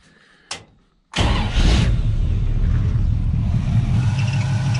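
A NASCAR Winston Cup car with a loose, wobbly alternator is started after a short thump, then runs at a loud steady idle with a high squeal from the alternator belt mixed into the engine noise.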